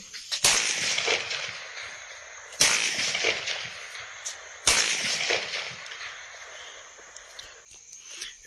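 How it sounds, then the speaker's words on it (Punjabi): Three sharp gunshots ring out, spaced about two seconds apart, each a loud crack trailing into a rough, echoing decay, with outdoor background noise between them. "ਤੁਸੀਂ ਫਾਇਰ ਦੀ ਆਵਾਜ਼ ਸੁਣੀ ਹੋਏਗੀ"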